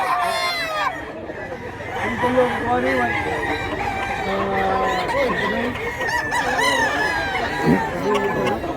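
Several roosters crow repeatedly with overlapping calls and scattered clucking among a group of chickens for sale, fairly close and steady, with some background crowd murmur.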